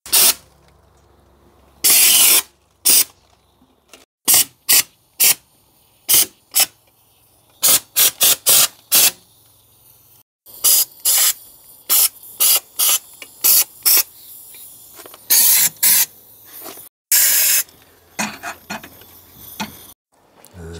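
Aerosol protective coating sprayed inside the rear subframe of a Smart Fortwo 450, a long series of short, loud hissing bursts at irregular intervals with quiet gaps between them.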